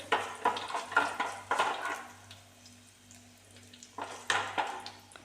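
Urad dal and dried red chillies frying in hot oil while cooking cabbage upperi, giving soft crackling sizzle in intermittent bursts with stirring clatter against the pan and a low steady hum beneath.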